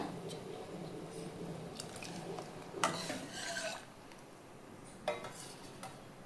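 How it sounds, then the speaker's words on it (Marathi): Broken grains being stirred into boiling water in a pot for a traditional summer buttermilk kanya dish, heard as soft, steady scraping and swishing with a few sharper clinks of the spoon against the pot, close by and fairly quiet. "आता एकसारख्या कण्या हे हलवून घ्यायच्या, कारण डिकळ्या होऊ नयेत म्हणून, गुटळ्या होऊ नयेत म्हणून."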